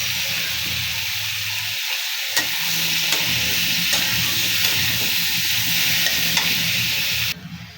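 Sliced cucumber hits a hot pan of prawns, setting off a loud, steady sizzle and hiss that holds evenly, then drops abruptly near the end.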